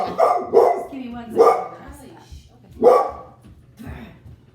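Puppy Charlie barks repeatedly at the mailman, a series of sharp, close yaps in uneven bursts, with a person talking over and between the barks.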